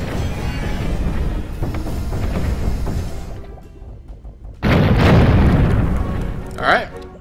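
Cannon fire and explosions from the artillery strategy video game Cannon Brawl, a busy rumbling mix of blasts that cuts out briefly, then returns with a loud burst and a short sharp pop near the end.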